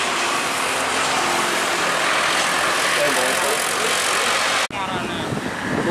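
A loud, rumbling engine of an old Mitsubishi sugarcane truck idling close by, steady and heavy, with a sudden shift in tone near the end.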